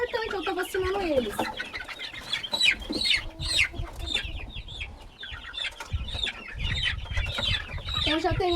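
Young chicks and hens cluck and peep in a backyard coop, a busy close chorus of short calls and chirps running throughout with occasional louder squawks.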